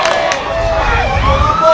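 Emergency sirens wail with rising and falling tones behind a schools rugby match, heard over a crowd murmur and a commentator's voice.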